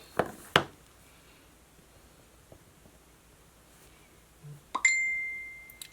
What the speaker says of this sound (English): My phone's dinging.